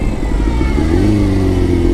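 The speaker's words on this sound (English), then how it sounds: "It's a little clutch wheelie." A Suzuki GSX-R 600 sport bike revs up loudly and close for a clutch wheelie, its engine note rising and holding a strained mid-pitched roar over a rough low rumble.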